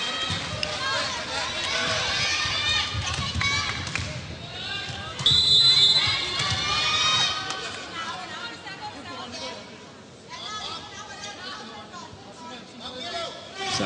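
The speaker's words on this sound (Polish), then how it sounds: "To dla niej chyba największe brawa za tę akcję." Crowd cheering and applause at a women's volleyball match between Thailand and Japan in the 2009 FIVB World Grand Prix, a loud, sustained arena roar with a surge midway, heard under continuous commentary.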